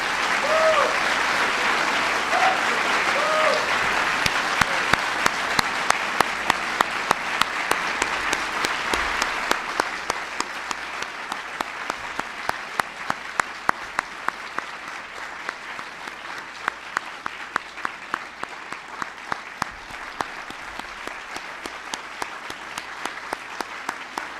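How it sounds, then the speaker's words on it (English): A big round of applause from an audience honoring award recipients, sustained steady clapping that runs loud and thick for over twenty seconds, with individual claps growing more distinct as it tapers slightly. "Can everybody please give them one more big round of applause?"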